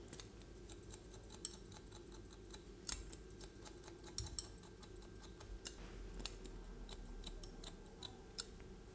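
Scissors point cutting into the sides of a man's hair during a crop haircut, a series of faint, crisp snips at an irregular pace, close by in a quiet room.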